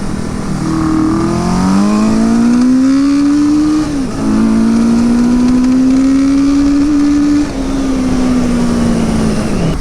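A Suzuki GS850 scrambler motorcycle engine runs roughly up close and loud, its tone rising and wavering unevenly, dipping briefly twice before holding a strained, uneven idle-to-rev drone.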